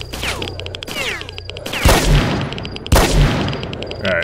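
Gunfire and Gauss rifle shots in STALKER: Shadow of Chernobyl: rapid enemy shots early on, then two loud, sharp, booming blasts about a second apart, each with a lingering rumbling tail.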